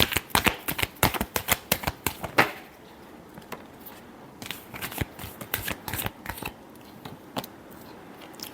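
A tarot deck is shuffled by hand in a quick series of crisp, papery riffles and snaps, first in a dense burst, then after a short pause in another, looser run of shuffles, close and clear.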